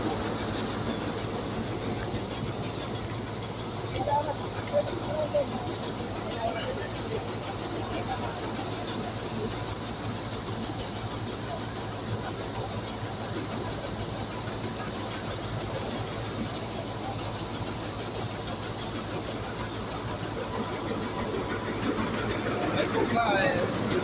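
Arjun Novo tractor running a thresher (huller), a steady continuous mechanical drone with rattling throughout, fairly loud and close.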